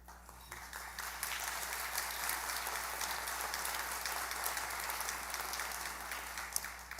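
Audience applause at a foundation's annual meeting, a steady, fairly faint and distant wash of many hands clapping together without a break, with no talking over it.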